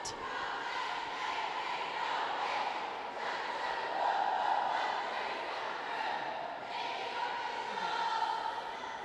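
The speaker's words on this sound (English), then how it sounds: "And as the girls do their last cheer of the night." A girls' high school swim team gives a last cheer of the night at a home meet against NFA, a steady, loud crowd-like chorus of voices echoing through an indoor pool hall.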